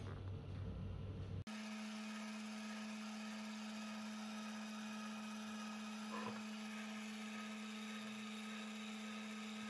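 A home ice cream maker churns strawberry ice cream with a steady, continuous motor hum and faint paddle rumble, close and unbroken after a brief quieter start.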